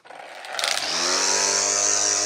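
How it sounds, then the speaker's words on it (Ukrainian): A Makita cordless battery lawn mower starts with a rising whir that settles into a steady, loud motor drone, heard alone and close. "Косарка працює і можна собі підкошувати газони."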